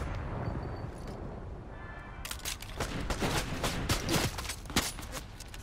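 Powerful laser weapon firing in Fortnite, a rapid run of loud, sharp bursts over dense game noise that starts about halfway through and keeps pulsing to the end.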